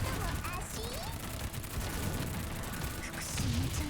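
M4 rifle fire in the game Girls' Frontline, a rapid stream of gunshots blended into dense combat noise and music-like tones, continuous and fairly loud throughout the short stretch.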